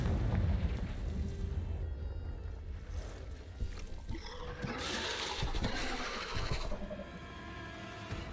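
Fire spell explosion from Confringo, cast in the Hogwarts Legacy video game, booming and rumbling in bursts over continuous game noise and music, with a loud flare around the middle.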